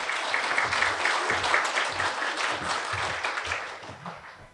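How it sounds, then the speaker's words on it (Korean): Residents applaud to welcome a construction company presenter at a neighbourhood redevelopment briefing in Seoul, a crowd's dense clapping that holds steady and fades slightly at the end. "뜨겁게 박수로 맞이해 주십시오."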